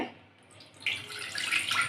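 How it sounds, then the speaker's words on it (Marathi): Water pours steadily into a cooking pot while coconut rice (narali bhat) is being made, a soft rushing stream that starts partway through and holds fairly close and even. "पातेल्यामध्ये पाणी घालूया"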